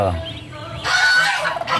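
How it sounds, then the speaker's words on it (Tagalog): Loud, nasal honking of geese close by, several overlapping calls in a short noisy burst. "Ingay na mga gansa."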